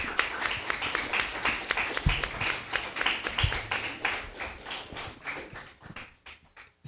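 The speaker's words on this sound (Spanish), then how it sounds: "les pido que le brinden un aplauso y le damos la más cordial bienvenida al doctor Walter" A seated audience at a panel event in Xalatlaco gives a welcoming round of applause, dense steady clapping close by that gradually thins and fades out toward the end.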